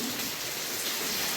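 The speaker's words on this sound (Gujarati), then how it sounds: "ઓકે આવે છે હવે વરસાદ" Rain falls at home in the morning in Mahuva as a steady, even hiss of drops on surfaces, close and moderately loud, with no voices.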